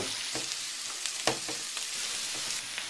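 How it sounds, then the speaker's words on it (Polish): Carrot and parsley root sizzle in a pan with softened onion and leek, a steady close frying hiss broken by a few soft stirring taps. "I teraz na zeszkloną cebulę z porem dodaję marchewkę i pietruszkę. I przez chwilę będę podsmażać"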